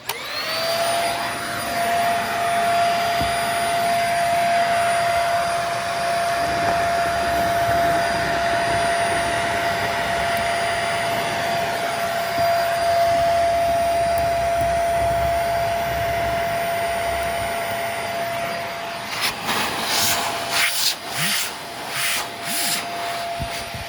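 A household upright vacuum cleaner runs loud and steady, with a continuous roaring whoosh and a high tonal whine, then a stretch of pulsing clunks and bumps near the end.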